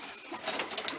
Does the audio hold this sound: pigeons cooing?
yes